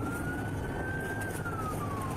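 Emergency vehicle siren escorting a private EMS ambulance near a highway intersection, a single slowly rising and falling wail held steady for a couple of seconds over constant road rumble, fairly distant.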